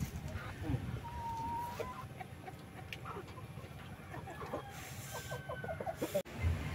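Chickens cluck softly in the background among faint farmyard noise, with scattered bird calls and no talking.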